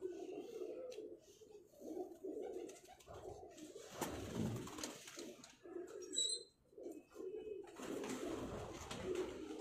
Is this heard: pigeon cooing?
yes